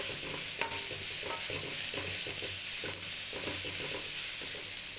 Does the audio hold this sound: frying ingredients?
yes